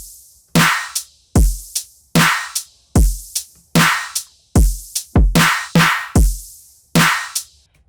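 A grouped drum pattern built from Ominous sample packs plays, with punchy kicks and snappy hits falling in a steady, driving rhythm, loud and dry with no voices.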